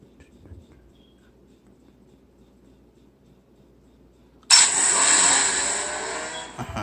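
Car engines in the Asphalt 8 racing game on a Moto E4 Plus phone start suddenly after a quiet stretch with soft tapping, then hold a loud, steady roar to the end.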